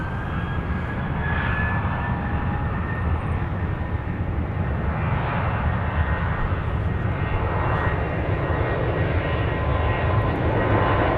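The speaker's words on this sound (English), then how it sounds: "We've got a takeoff here. This is our first takeoff, I think." Jet airliner taking off at night at Dallas Love Field airport, a loud, continuous broadband engine roar that holds steady throughout, heard from nearby with no talk over it.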